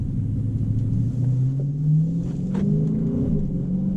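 Deep exhaust rumble from a Dodge Charger Scat Pack running in track mode, heard from inside the car as the engine note drones low and rises smoothly under throttle, with no talking.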